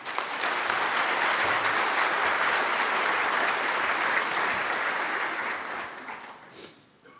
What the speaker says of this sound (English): Can I have an applause for those graduates?